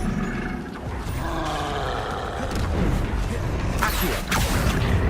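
Expelliarmus spell being cast in the video game Hogwarts Legacy: a dense, loud burst of magical impact and whooshing effects in steady game audio, with a sharp bright flare near the end and a voice shouting over it.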